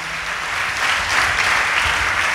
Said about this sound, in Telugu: చప్పట్లు కొట్టండి గట్టిగా అందరూ